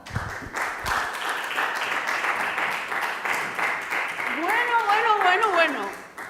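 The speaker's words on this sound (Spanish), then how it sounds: "Vamos a recibir con un aplauso bien grande a Félix Corcuera y" An audience at an Asturian-language event applauds to welcome two speakers onto the stage, a dense steady clapping that swells toward the end while a voice talks over it.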